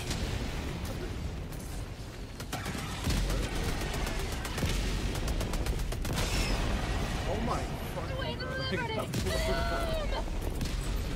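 Artillery barrage in Helldivers, a dense run of rapid blasts and booming explosions rolling on for several seconds, loud and close, with excited voices shouting over the din.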